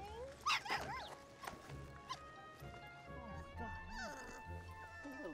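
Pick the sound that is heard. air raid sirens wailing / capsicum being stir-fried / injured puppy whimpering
injured puppy whimpering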